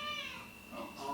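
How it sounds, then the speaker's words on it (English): A cartoon cat from the Rick and Morty episode "Pickle Rick" gives close, drawn-out meows, a couple of wavering cries in about a second, with faint background sound. "Oh, a cat."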